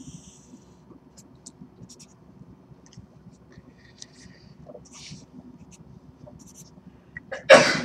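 A single loud sneeze bursts out at the very end, breaking a long stretch of quiet room noise with faint scratching and small clicks, as in a lecture or review session.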